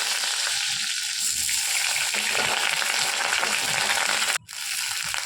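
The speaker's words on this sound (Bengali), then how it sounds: "তেল গরম হয়ে গেলে কালো জিরে দিয়ে পটলগুলোকে একে একে তেলের মধ্যে ছেড়ে দিতে হবে।" Pointed gourd (potol) dropped into hot oil with black cumin, a loud, dense frying hiss and crackle that runs steadily, then cuts out abruptly near the end before resuming more quietly.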